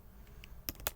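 Keys on a computer keyboard are tapped a few times in quick succession, soft close clicks with a couple of sharper strokes in under a second.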